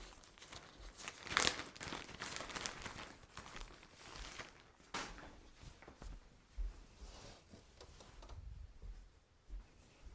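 A big plastic bag crinkles and rustles indoors in irregular bursts, with one sharp crackle early on and softer handling and shuffling noises throughout.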